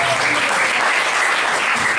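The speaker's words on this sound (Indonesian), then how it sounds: "kasih tepuk tangan yang meriah" A church congregation at a Sunday worship service breaks into loud, dense applause, a steady wash of many hands clapping close by for the full stretch with no pause.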